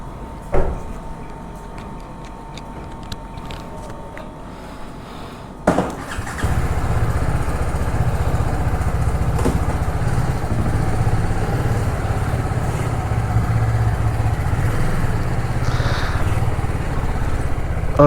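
A motorcycle engine fires up at about six seconds after quiet ticking and handling noises, then settles into a steady, loud low rumble that runs to the end, close by, with no talking.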